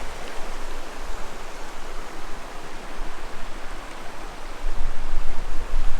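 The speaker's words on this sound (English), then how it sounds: "enjoy this river that is behind our campsite" A river flows behind a campsite with a steady, broad rushing wash of water that swells slightly louder toward the end, with no voices.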